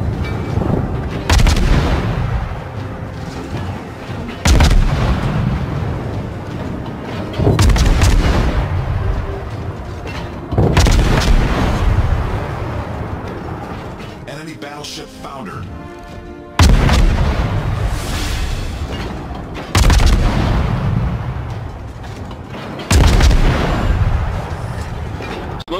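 Heavy gunfire from a Benson destroyer in a naval warfare video game, loud booming salvos roughly every three seconds, each with a sharp onset and a long rumbling decay, plus a brief crackling interlude in between.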